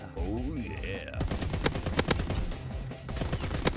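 Rapid bursts of LAD machine gun fire in the World War II shooter Call of Duty WW2, sharp repeated shots crackling loudly over game music and effects, with someone talking briefly near the start.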